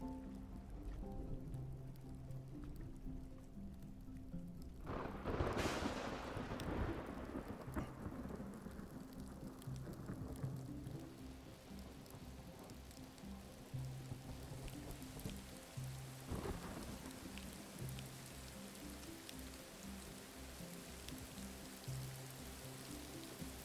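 Steady rain with rumbling thunder in the video game Rising World, one loud roll rising and fading early on and another softer rumble later, over a constant low background hum.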